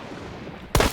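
A single sharp gunshot rings out in the video game Hunt: Showdown after a moment of low ambient noise, loud and close with a brief ringing tail.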